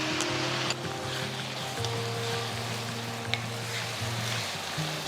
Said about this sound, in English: After sauteing the tomatoes for about 2 minutes